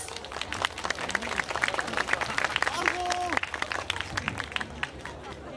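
An audience claps along in a steady, even rhythm to a cheer performance by the Kwansei Gakuin University team Enryu at the World Apollon 2019 event. A voice rises briefly over the dense, continuous claps.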